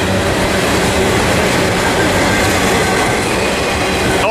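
A freight train with old-style Southern Pacific articulated well cars rolls past close by, a loud continuous roar of wheels and rattling cars with clickety-clack and faint flange squeal.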